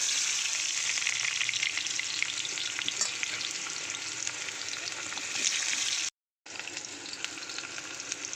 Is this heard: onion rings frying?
yes